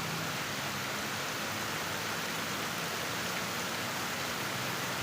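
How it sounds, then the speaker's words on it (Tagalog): Heavy rain pours steadily outdoors on a road with no passing traffic, a dense, constant hiss filling the whole stretch without pause, loud and close, with no voices. "Malakas kasi ang ulan ngayon."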